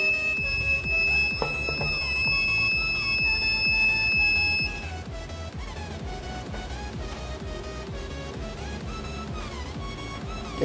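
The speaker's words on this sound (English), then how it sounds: "Long beep." A long, steady high-pitched electronic beep from a 4 kW 12 V to 220 V high-frequency inverter sounds for several seconds over a rhythmic background, then stops, leaving the background to continue.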